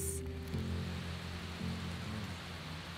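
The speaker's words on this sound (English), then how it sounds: "We're just sitting here in the rain." Steady rain falls in a constant hiss in a Bali jungle, close and even, with no voices.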